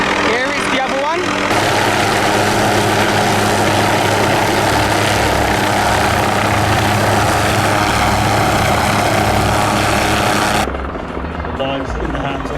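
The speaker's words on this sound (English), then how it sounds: "now we have another helicopter" A helicopter flies close overhead at a UK gathering of helicopters and supercars, its loud, steady rotor chop and engine roar dominating for several seconds before abruptly dropping, with brief talk at the start.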